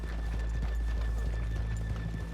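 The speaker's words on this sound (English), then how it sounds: "let's leave the horses here off the main drag." Horse hooves clip-clop steadily on a street in the video game Red Dead Redemption 2, a quick, even rhythm of soft thuds heard close over a constant low ambient hum.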